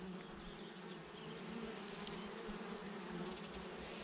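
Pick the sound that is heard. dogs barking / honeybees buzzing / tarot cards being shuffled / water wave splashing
honeybees buzzing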